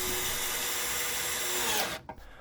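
A power drill drives 80mm galvanized screws into a garage's wooden frame, a loud steady whir close by for nearly two seconds that stops abruptly and leaves a faint clatter.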